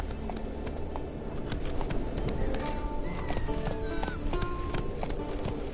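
Video-game horse Roach galloping with steady clip-clop hoofbeats close up, mixed with game ambience, bird chirps and a faint voice in the background.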